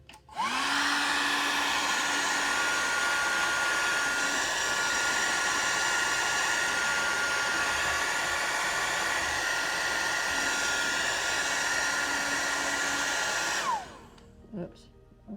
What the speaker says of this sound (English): So I'm going to get out my hair dryer again